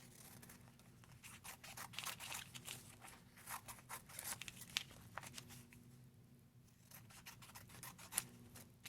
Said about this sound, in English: Cut off the excess transfer tape.